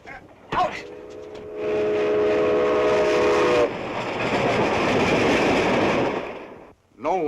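A 1937 film-serial train runs at speed: a loud steam whistle blast, then a rushing, rumbling roar of wheels and cars filling the clip, fading out near the end.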